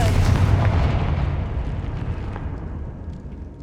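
In the Hogwarts Legacy video game, a Confringo blasting spell goes off as a loud, heavy explosion with a deep rumbling boom that slowly decays over several seconds, with no other sounds on top.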